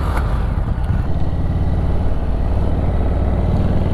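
An Indian Chieftain Dark Horse motorcycle with open exhaust idles and rumbles close by with a deep, throbbing, unmuffled exhaust note, steady throughout.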